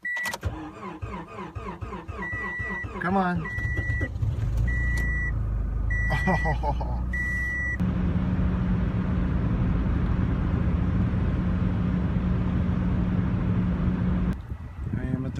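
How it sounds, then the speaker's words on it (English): A car starting at twenty below zero in deep snow gives electronic chimes and strained cranking, then catches into a steady, rough idle that runs to the end, with a few short exclamations from a person nearby. "Starting a car at 20 below."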